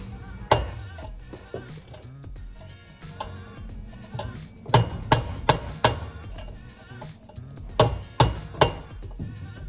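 Sharp metallic hammer strikes on the exhaust downpipe of a 1983 MK1 VW Golf GTi, scattered at first then in clusters of quick blows, loud and close with brief pauses between.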